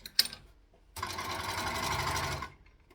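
An overlocker stitching a skirt runs in one steady, loud mechanical burst lasting about a second and a half, preceded by a few faint clicks and followed by near silence.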